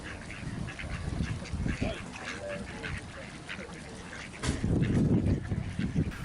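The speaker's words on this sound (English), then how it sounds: "These mute swans with their orange beaks and mallards are the most tolerant of people, with the Canada geese not far behind." Mute swans, mallards and Canada geese gathered at Tynemouth give scattered quacks and honks that are partly buried in steady outdoor noise, with people talking nearby.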